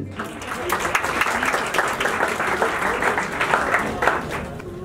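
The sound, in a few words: audience applause welcoming a poet at a mushaira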